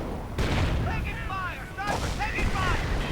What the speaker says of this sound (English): a Calliope has arrived for Vlad and immediately sets about bombarding the Axis positions